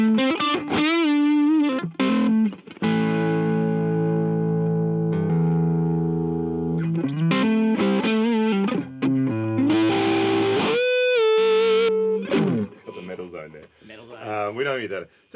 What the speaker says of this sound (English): Let's find a nice sound that we like, a distortion sound, and then add some delay to it